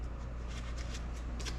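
Cards are drawn and handled during a tank duel board game, giving soft papery flicks and slides over a steady low background hum, faint and close, with no voices.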